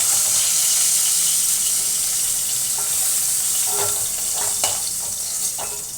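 Hilsa fish heads, rubbed with salt and turmeric, frying in hot oil: a steady bright sizzle with a few clinks and scrapes from stirring near the end.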